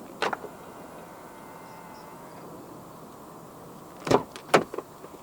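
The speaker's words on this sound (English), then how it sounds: "to unlock the car, just press the button on any of the front door handles again." A BYD M6 unlocks after a press of the front door handle button. A quick click comes early, followed by a cluster of close mechanical clunks and clicks about four seconds in, against quiet surroundings.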